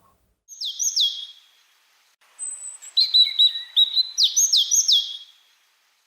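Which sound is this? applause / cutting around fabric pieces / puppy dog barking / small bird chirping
small bird chirping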